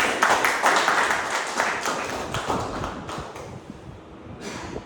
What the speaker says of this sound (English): Huge round of applause for both of them.